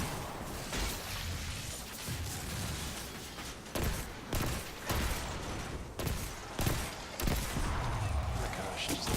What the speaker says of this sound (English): this gun fires so slow